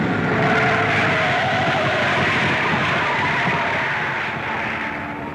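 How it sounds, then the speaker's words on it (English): A WWII Helldiver dive bomber without its tail hook brakes hard to a stop on an aircraft carrier deck, heard as a continuous loud roar of engine and rushing noise with scraping tire friction, slowly easing toward the end. "As the plane can't be stopped by the arresting gear, the pilot must rely on his brakes."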